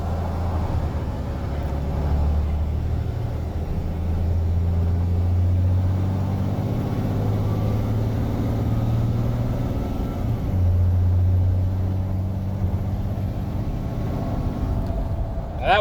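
An unladen Freightliner M2 26 ft box truck with a Cummins engine accelerates at about quarter throttle. A loud, steady low engine drone rises through the gears, heard from inside the cab.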